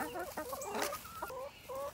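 Hens clucking in short, repeated bursts, fairly close, with a few overlapping calls and no talking.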